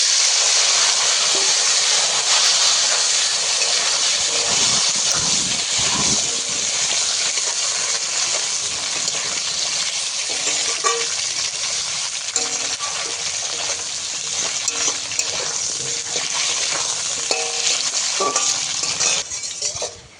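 Black cumin seeds and taro fry in hot oil, giving a loud, constant sizzle and hiss that lasts throughout, with occasional stirring scrapes and soft pops in the pan.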